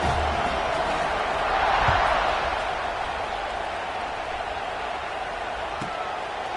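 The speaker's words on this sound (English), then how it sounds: "this crowd is buzzing after that last score" A college football stadium crowd at an HBCU game buzzes after a score, a dense, steady roar of many voices that swells briefly and then settles into a constant wash.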